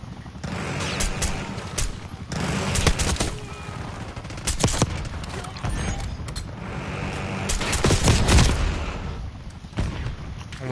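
Black Ops 6 multiplayer gunfire rattles in repeated bursts and single shots, loud and close amid clanking mechanical noise, with rapid fire swelling and fading through the scene.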